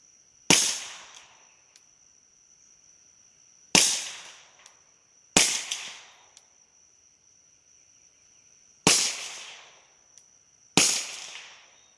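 Suppressed pistol fired outdoors, five sharp cracks spaced a couple of seconds apart, each with a quick fading tail, over a faint high insect-like whine.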